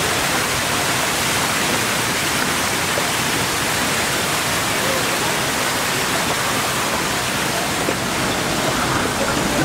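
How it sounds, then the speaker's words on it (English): Constant, loud rushing roar of a waterfall near Batu Caves, Kuala Lumpur, a dense unbroken hiss with no pauses. "Waterfalls here."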